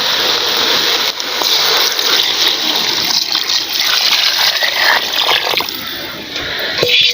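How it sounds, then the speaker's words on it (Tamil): Water pours steadily into a pot of village-style country chicken gravy with ground chilli and coriander powder, a continuous close splashing gush lasting several seconds. "இப்போ தண்ணி ஆட் பண்ணிடுவோம்."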